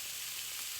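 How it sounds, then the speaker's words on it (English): Close, steady hiss of chicken fajitas sizzling in a hot cast iron pan, bright and crackly, brief and uninterrupted by talk. "But now we're sizzling."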